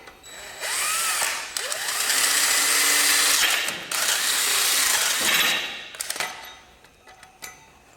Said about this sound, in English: Guess I'll have to drill through first all the way